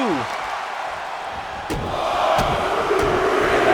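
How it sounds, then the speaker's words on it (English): A wrestling crowd cheers during a match, a broad roaring swell that builds and stays loud, with a commentator's voice running over it. "And the crowd is really into this match."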